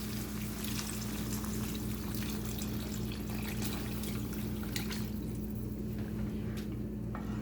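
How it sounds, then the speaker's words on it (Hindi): Water pours steadily into a pot of aloo gosht shorba, a continuous splashing wash over a low background hum, with no talking. "मैं इसमें पानी ऐड करने लगी हूँ।"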